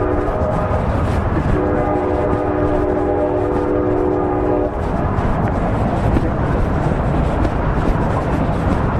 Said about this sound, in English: Is that going to be a train rolling by?